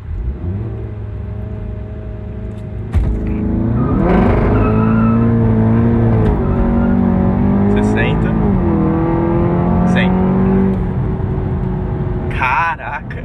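A stage 2 Audi TT accelerates hard in a 0-100 km/h test, its engine loud and close, rising through revs with gear shifts, while people talk excitedly over it.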